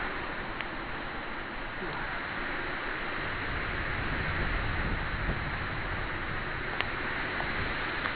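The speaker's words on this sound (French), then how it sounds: "C'est pas l'orage hein, qu'on entend, c'est le vent qui souffle." Strong wind blows steadily during a summer thunderstorm in Vougy, a dense, loud rushing roar buffeting the microphone without pause.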